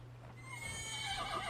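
A horse gives a single loud, rising neigh that swells and holds close by for over a second, nothing else around it.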